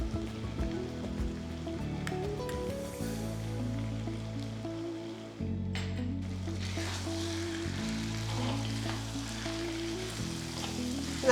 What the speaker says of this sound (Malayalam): 5 മിനിറ്റെങ്കിലും കിടന്നൊന്ന് വഴറ്റിയെടുക്കുക